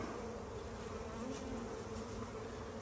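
Honey bees from a healthy nucleus hive buzz in a dense, steady swarm drone close by, continuous and fairly loud for the whole stretch with no voices over it.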